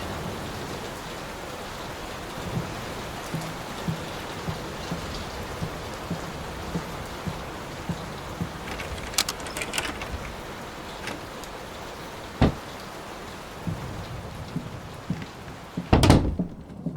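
Rain in the horror game Layers of Fear falls as a steady, soft patter on surfaces, with scattered sharper drips and knocks and a louder thump near the end.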